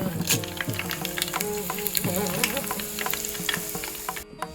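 Guntur red chillies fry in hot oil with dals for vangi bath, a close, steady sizzle with frequent crackles, pops and the scrape of stirring, no voices.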